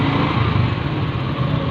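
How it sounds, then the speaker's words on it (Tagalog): A motorcycle engine idles steadily close by as the rider parks at a park entrance in Pasig City, a constant buzzing drone with no talking. "Magpa-parking na po tayo dito ng motor."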